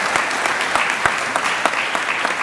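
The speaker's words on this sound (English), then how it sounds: "Let's give Dr. Kim a round of applause." An audience at a leadership program graduation applauds steadily, a dense wash of clapping held at an even level throughout, with no voices rising above it.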